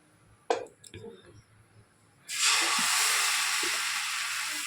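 Roti goes onto a hot clay pan and breaks into a steady, loud sizzling hiss that lasts several seconds, following a few soft taps and handling sounds at the start.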